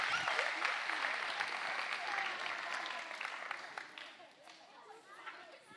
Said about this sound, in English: Give a round of applause for our kids.